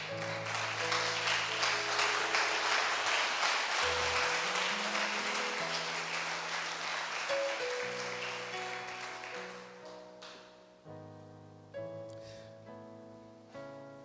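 A church congregation claps as an offering of praise to God, a dense rhythmic applause over sustained organ or keyboard chords that continue alone after the clapping fades.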